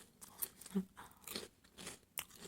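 Someone eats mushrooms with dipping sauce, close up and quiet, with a series of crisp crunching bites and chewing sounds spaced irregularly, and no talking.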